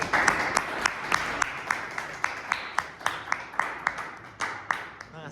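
Applause from an audience after a group presentation, a small group clapping in a loose, fairly regular rhythm of sharp claps, close and moderately loud, with faint voices underneath.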